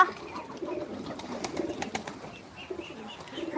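Pigeons coo softly at a home farm, low murmuring calls repeating close by amid faint rustling and a few small knocks.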